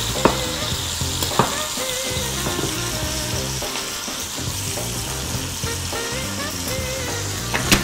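Bacon frying in a pan, a loud continuous close-up sizzle and crackle with occasional sharper pops and light stirring sounds, no speech.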